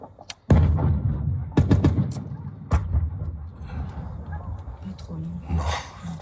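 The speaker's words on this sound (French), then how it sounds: "Ça tire fort." Heavy gunfire in a conflict zone, with rapid, continuous bursts of shots and booming reports echoing at a distance, sustained and loud over several seconds.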